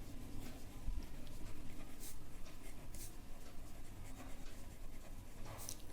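Pen writing out a class 10 maths solution on circle areas, a continuous soft scratching with short strokes and pauses, close and faint over a steady background hum.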